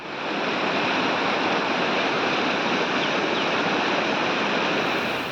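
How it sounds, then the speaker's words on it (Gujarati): Steady, dense rush of floodwater pouring along a road during heavy monsoon rain in Dwarka, a continuous broadband roar with no pauses or voices. "રસ્તા પર પાણીનો ધસમસતો પ્રવાહ વહેતો થયો."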